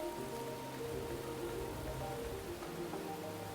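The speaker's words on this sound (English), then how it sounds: "Hey, Kanade, it's raining." Rain falls in a game scene from Blue Reflection, a steady soft hiss of drops with faint tonal music underneath, constant and moderately quiet throughout.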